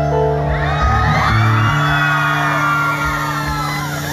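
A live concert crowd in Altamira, Tamaulipas shouts and whoops loudly and continuously over sustained band music, giving a dense, roaring wall of cheering.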